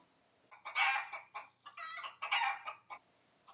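A chicken clucks and crows close by in a few distinct bursts, throaty squawking calls with short pauses between, no talk.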